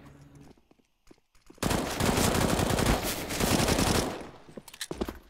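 Rapid automatic gunfire crackles in Counter-Strike: Global Offensive on the Cache map during a professional esports match. A loud, dense burst of about two and a half seconds follows quieter scattered sounds and fades into a few isolated pops.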